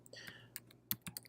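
A web address being typed on a computer keyboard: a few scattered key clicks, quiet and irregular, with sharper taps toward the end and no talking.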